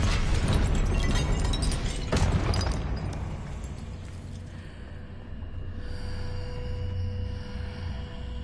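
Confringo blasting spell from the Hogwarts Legacy video game erupts as a loud, broad explosive burst at the start, with a second blast around two seconds in, then fading into a low rumbling magical hum.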